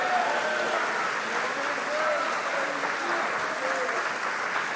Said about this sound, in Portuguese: Cadê os crentes da comunhão para aplaudir Jesus aí?